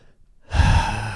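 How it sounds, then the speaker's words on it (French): A single deep inhalation is drawn in sharply after a moment of silence and swells into a loud, breathy rush close by, without speech. "Tu prends une grande respiration."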